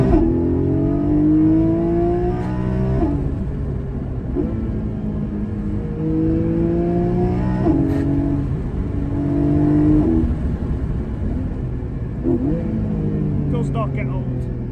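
Porsche Cayman GT4 engine revving hard through repeated gear changes while driving, rising harmonic sweeps climbing then dropping at each shift, loud and close with steady road rumble underneath.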